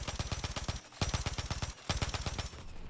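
Rapid automatic gunfire from a video game weapon shooting tracers, three close, loud bursts of evenly spaced shots separated by brief pauses, with no talk over it.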